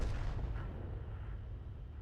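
In a tank video game, an artillery shell slams directly into a tank's side with a broad, muffled boom that starts the clip and fades into a low rumble, fairly faint overall.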